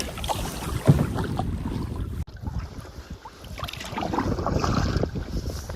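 A solo canoe glides across a lake toward an island campsite in fall, with steady paddle strokes and water swishes under gusty wind noise buffeting the microphone.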